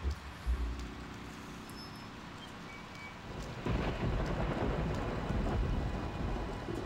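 A thunderstorm in the video game Conker's Bad Fur Day: a deep thunder rumble opens, then heavy rain swells into a loud, steady hiss that continues to the end.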